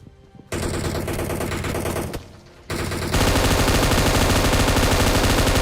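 Automatic gunfire in the battle royale game PUBG, loud sustained bursts of rapid shots with a brief lull before a dense, nonstop volley.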